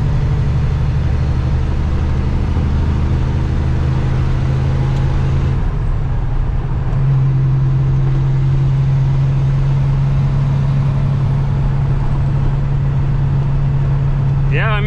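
Loud, steady exhaust drone from a semi truck's pipes fitted with a new muffler while driving, a constant low rumble with a shift in pitch partway through, and voices talking over it.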